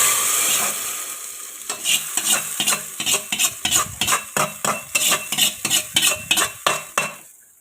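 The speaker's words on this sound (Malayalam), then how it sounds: "ഇനി കുറച്ച് കറിവേപ്പിലയും കൂടി ചേർത്ത് കൊടുത്തു കഴിഞ്ഞാൽ നമ്മുടെ താളിപ്പിനുള്ളത് റെഡി ആയിട്ടുണ്ട്. ഇനി ഇതാ ഇവനെ നമ്മുടെ സാമ്പാറിലേക്ക് ഒഴിച്ച് കഴിഞ്ഞാൽ നമ്മുടെ സാമ്പാർ റെഡിയായി." Curry leaf tempering is poured into a pot of sambar with a brief sizzle, followed by a run of steady, rhythmic stirring scrapes and utensil clinks close by.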